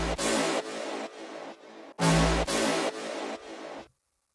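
Three layered synth brass stabs stacked in an FL Studio dance drop play two phrases of short punchy hits, with a heavy low thump under the first hits of each phrase, then stop dead.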